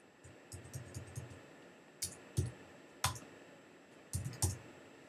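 A few quiet clusters of clicks from a computer keyboard being typed on, short bursts and single taps separated by pauses, close over a faint background hiss.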